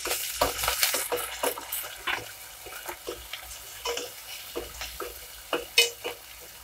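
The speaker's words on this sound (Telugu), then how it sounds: "ఉల్లిపాయ ముక్కలు బాగా ఎర్రగా వేగనిద్దామా" Onion pieces sizzling and being stirred in a pan for a puri masala chaat, with quiet crackle broken by scattered scraping and clinking of a spoon against the pan.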